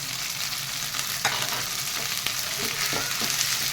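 Green chilli paste frying with half-cooked ginger-garlic paste, a continuous close sizzle of hot oil with occasional scraping and clinks of a spoon stirring, no voices.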